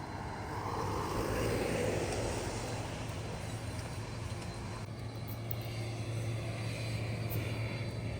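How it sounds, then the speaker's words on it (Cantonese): A jet airliner passes close overhead near Narita Airport, a loud continuous engine roar that swells and slowly fades across several seconds outdoors. "喺呢個位就可以睇到飛機好近距離咁樣駛過。"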